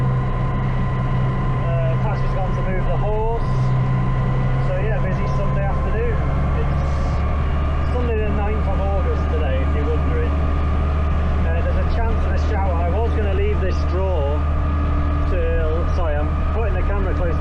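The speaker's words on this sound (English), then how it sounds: "tractor's very noisy, you might not be able to hear this" A tractor engine runs loud and steady while baling straw, a constant heavy low drone heard from close by with someone talking over it throughout.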